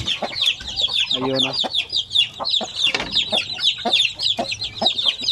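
Pure Basilan chickens cluck and chirp busily in a farm coop, with many overlapping calls from several birds near and far, while a person talks briefly over them.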